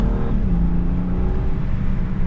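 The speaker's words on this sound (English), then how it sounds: "You can definitely hear the turbo a little bit now. The intake's way louder." A BMW N55 with a Burger Motorsports air intake revs its turbocharged engine, a loud, close, droning note that drops in pitch as the revs fall and then holds steady, with no talk over it.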